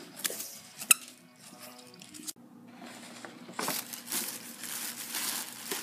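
A dog chews a squeaky toy, giving sharp intermittent squeaks and soft crinkling, squishy chewing sounds, fairly close but quiet, with no talking.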